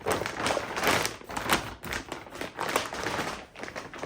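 Packaging rustles and crinkles as a BMW R1250GS Adventure motorcycle skid plate from AltRider is unwrapped. The clip holds continuous close crackling and tapping handling noises with irregular bursts.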